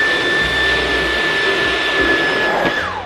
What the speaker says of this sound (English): I know I already raved about this vacuum, but check this out.